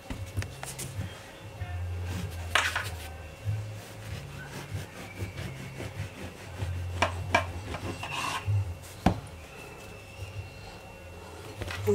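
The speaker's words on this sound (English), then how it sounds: "So I'm going to slice my bread here." A knife saws through bread for a tuna sandwich, making steady back-and-forth rasping strokes up close. The strokes run continuously over a low background hum, with a few sharp knocks along the way.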